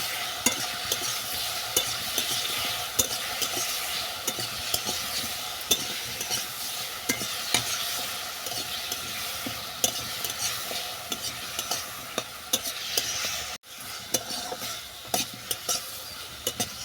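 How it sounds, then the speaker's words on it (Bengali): Salad ingredients with vinegar and ajinomoto are stirred and tossed in a pan over a steady sizzling hiss, with repeated clicks and scrapes of a spoon against the pan, close and continuous, briefly cut off near the end. "এরপর এই সমস্ত উপকরণ আমি ভালো করে মিশিয়ে নেব।"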